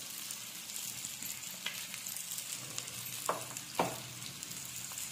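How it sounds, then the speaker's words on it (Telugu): Onions, tomato pieces and coriander powder fry in a pan with a soft, continuous sizzle, broken by a few brief louder scrapes of stirring. "ఆనియన్స్, టమాటా ముక్కలన్నీ బాగా ఫ్రై అయ్యింది."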